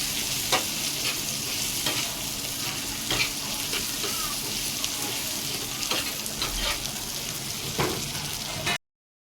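Prawns sizzle steadily on a hot griddle, with occasional scraping and stirring clicks throughout; no one speaks.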